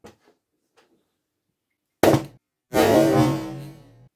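Faint clicks of an igniter, then a sharp bang, a pause, and a loud roaring burst as a gas-filled balloon explodes, fading away over about a second.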